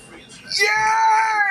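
A crowd of about 100 people in a room screaming and cheering in celebration as Trump's mugshot is shown, rising from murmur into loud, sustained high-pitched shrieks and yells.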